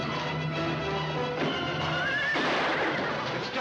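Horses neigh and whinny in a 1950 Western film scene, a shrill rising whinny standing out over faint clip-clop of hooves and background film sound.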